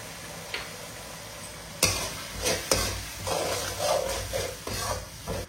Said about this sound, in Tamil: இப்போ மேகி மசாலா சேர்த்து சும்மா ஒரு கலக்கி விட்டு